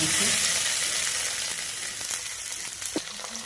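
White oil sizzles in a pan while Mexican rice is being made, a loud hiss at first that gradually softens, with a few stirring clinks and scrapes near the end.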